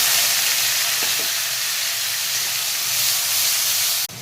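A paste of onion, garlic and ginger goes into hot oil with a loud, close, steady sizzle and hiss that carries on unbroken. There is a faint clink near the end and no one talks.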